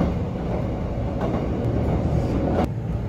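Kintetsu rapid express train on the Yoshino line running along the Yoshino River in autumn, a steady low rumble of wheels and carriage noise heard from inside, with faint rhythmic clicks over the rail joints.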